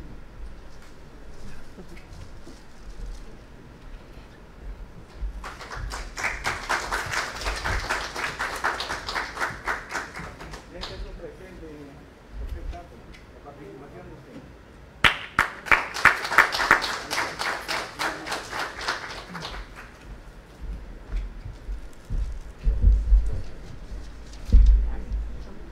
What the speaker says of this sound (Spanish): le vamos a despedir con un fuerte aplauso